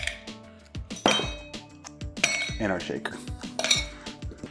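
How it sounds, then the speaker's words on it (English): Ice cubes drop into a metal cocktail shaker in a rapid series of bright, close clinks and clatters with an occasional heavier knock, with no talking. "Now let's get some ice cubes in our shaker."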